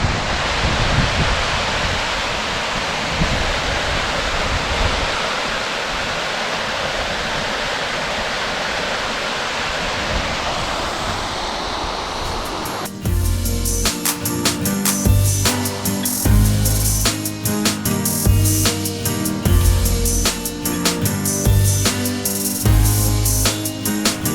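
A stream pours over rocks forming a stone staircase in the Laguna Negra reserve near Tolhuin, a steady broadband rush that gives way partway through to louder, busier layered sound.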